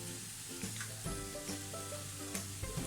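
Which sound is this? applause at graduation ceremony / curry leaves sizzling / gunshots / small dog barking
curry leaves sizzling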